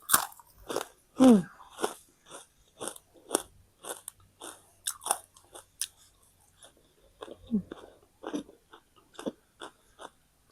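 Someone bites into crispy fried white fish and chews it up close, a series of sharp, dry crunches in uneven bursts with short pauses between, and no talking.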